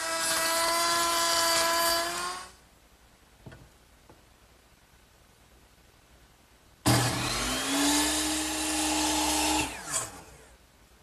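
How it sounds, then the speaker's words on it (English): A router spinning up in a router table and cutting a wooden molding profile, a loud high-pitched whine for about two seconds, a quiet gap with faint knocks, then a second burst of cutting that ends abruptly. "I've got it set up in my router table,"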